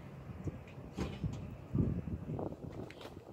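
A smoker door closes on baby back ribs cooking at 225 degrees, giving a faint, dull clunk and rattle in a quiet setting.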